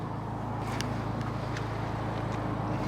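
Stock exhaust of a 2025 Honda Civic Si, a quiet steady low drone that stays even and continuous under faint background noise.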